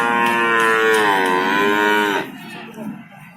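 A single loud, drawn-out cow moo up close at a livestock market, lasting about two seconds, followed by quieter background murmur.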